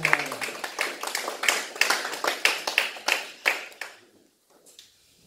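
A church congregation claps and acclaims during a worship service, a run of rhythmic bursts of applause that build then break off into near silence toward the end.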